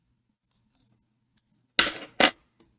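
Scissors snipping away excess thread while tying a fat head minnow fly, two crisp close cuts after a few faint clicks, in a quiet room.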